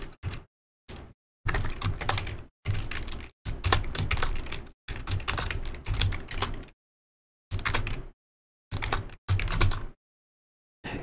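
Someone types a password on a computer keyboard at a Windows Server login screen, with close, crisp key clatter arriving in several bursts separated by silent gaps.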